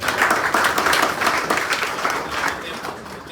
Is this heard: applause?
yes